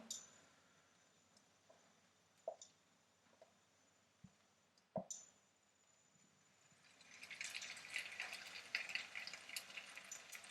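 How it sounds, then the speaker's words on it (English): Quiet clicks and small knocks come first, then a soft, crackling sizzle of Swiss rösti, grated potato, frying golden brown in a pan swells up and continues steadily. "And now we can hear this nice sizzling sound again from early on"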